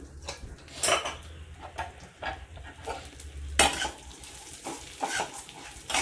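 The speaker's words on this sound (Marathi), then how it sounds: "आता आपण बदाम, पिस्ता, काजू आणि खसखस चांगली भाजून घ्यायची." Almonds, pistachios, cashews and poppy seeds roast in ghee in a pan, a soft sizzle under repeated scraping and clinking stirs of a metal spoon, with sharper knocks against the pan throughout.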